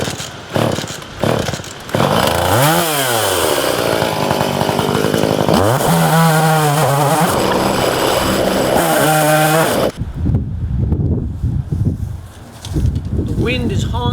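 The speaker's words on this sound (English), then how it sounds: "Maybe this time the saw will start." A chainsaw is pulled and sputters to life, then revs loudly in rising and falling bursts before idling down, heard close up with wind buffeting and someone speaking near the end.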